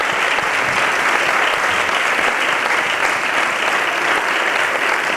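Audience applause fills the closing ceremony of the municipal dance school in La Palma del Condado, a dense, steady wall of clapping that holds at an even level from start to finish with no break.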